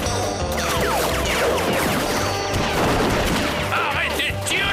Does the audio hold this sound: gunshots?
yes